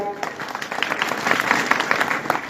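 Crowd at a political gathering breaking into applause, dense clapping from many people building in the middle and holding steady, with some voices mixed underneath.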